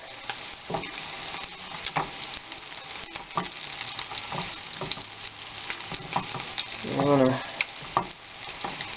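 Sole fish frying in butter in a pan, a steady close sizzle with light scraping and stirring sounds throughout and a brief louder gurgling burst near the end.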